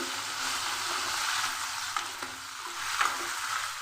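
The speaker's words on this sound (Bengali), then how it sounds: "নুন হলুদ দিয়ে ফুলকপি ভেজে নিচ্ছি।" Cauliflower florets frying in a pan with salt and turmeric, a steady broadband sizzle with soft stirring scrapes and a few small clicks, close and alone with no talk.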